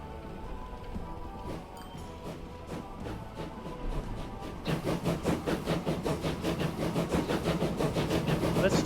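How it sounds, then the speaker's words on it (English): A train rolls along rails in the Transport Fever 2 video game, starting as a quieter rumble and then swelling into loud, rapid rhythmic wheel clatter over the rail joints. "Let's take a ride on our massive bomb-laden train."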